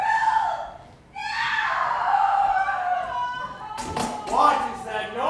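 Women cry out and wail as a theatre sound effect in a stage production of Macbeth, drawn-out overlapping voices rising and falling loudly for several seconds, then sharper shrieks near the end.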